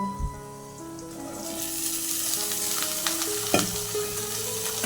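Onions and ash gourd curry fry in a pan, the sizzle swelling after a quiet start, with scraping stirs and a clear utensil knock over faint steady background tones.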